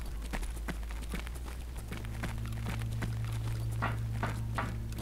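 Footsteps in the Escape From Tarkov video game, a steady run of close, crisp boot impacts that pace on evenly, with a low hum running underneath throughout.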